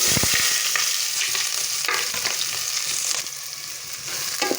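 Onions and green chillies sizzle and crackle steadily in a hot pan, a loud, continuous frying hiss with occasional sharper pops and scraping.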